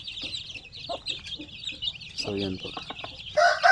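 Native chickens and month-old chicks cluck and peep at close range on a farm, with a continuous high chirping chorus and a brief spoken voice over it.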